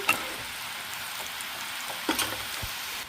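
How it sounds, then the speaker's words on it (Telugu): Onion samosa pieces fry in hot oil in a street-style kitchen, giving a steady close sizzle with a few sharper pops and crackles, with no voices. "ఆయిల్ బాగా హీట్ అయిపోయింది మనం ఇవి తీసుకొని ఇప్పుడు ఇందులో వేసేసుకుందాము ఇవి కొంచెం ఫ్రై అవ్వాలి"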